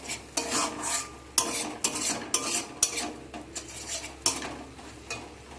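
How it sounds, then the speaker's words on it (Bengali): A spatula stirs turmeric and chili powder into spices in a pan for a brinjal dish, scraping in repeated sharp strokes against the metal over a faint sizzle, close and fairly loud, with no talking. "দিয়ে সব কিছুকে ভালো করে একসাথে মিক্স করে নেব"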